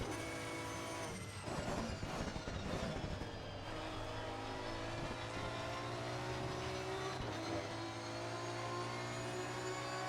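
An Aston Martin V12 race car laps Bathurst in a racing game, its engine whining steadily at high revs with shifting pitch, brief dips and rises as it changes gear, loud and continuous throughout.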